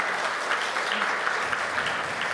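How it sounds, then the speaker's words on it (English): A conference audience gives a dense, steady round of applause for a performer, many hands clapping continuously at close range with no talk over it. "Let's all give another huge round of applause for Jasmine."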